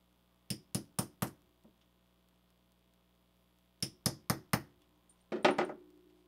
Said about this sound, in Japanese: ミシン台の上で金槌打てなくてごめんな。